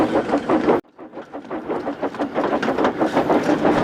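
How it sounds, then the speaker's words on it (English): A small animated cartoon goods train rolls along with a rhythmic clickety-clack of wagons on rails, loud and close, starting after a brief cut to near silence. "Edward and Monica were coming back with a small goods train"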